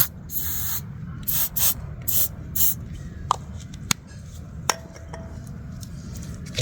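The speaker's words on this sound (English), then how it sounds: "Spray it with a bit of lubricant spray." Several short hissing bursts from an aerosol can of lubricant spray onto a 1979 Cadillac Seville fuel pump part, followed by a few sharp metallic clinks and taps nearby.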